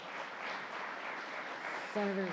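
Audience applause for a senator at a gun violence announcement in Rochester, a steady broadband clatter of many hands, with a voice starting to speak over it near the end.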